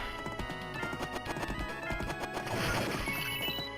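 Horse galloping in the Knights of the Round arcade game, with rapid clip-clop hoofbeats, a whinny and crashing hits in a dense, steady stream of game sound effects.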